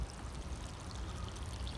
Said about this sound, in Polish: Pierwszy raz podlewam je obficie